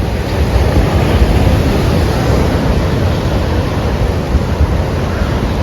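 Sea waves roll steadily at a beachside restaurant on a rainy day, a loud, continuous wash of surf with wind noise and no voices.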